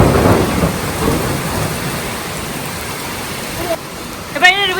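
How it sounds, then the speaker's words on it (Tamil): Heavy rain pouring down over a park during a thunderstorm, a broad steady hiss with a low rumble early on, and a voice briefly speaking near the end. "மழை ஓவராக பெஞ்சிட்டு இருக்கு கைஸ்"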